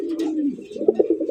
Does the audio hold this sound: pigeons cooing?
yes